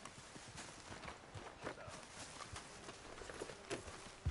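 Horse hooves clip-clopping in Red Dead Redemption 2, a quiet, steady run of light hoof taps at a walking pace over faint ambient background, with no talking.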